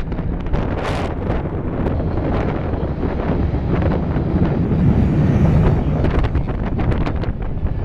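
Strong gusty wind buffets a microphone outdoors at Atlanta's Hartsfield airport during a wind advisory, a loud, dense, rumbling roar that never lets up across the whole stretch, with no voices.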